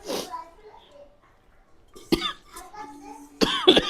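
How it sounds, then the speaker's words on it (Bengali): A person coughs several times in short, harsh bursts, one at the start and a cluster near the end, close by with a little murmured voice between. "আমার কিন্তু কাশি শেষ হয় নাই"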